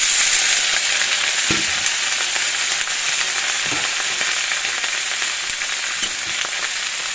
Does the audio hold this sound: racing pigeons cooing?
no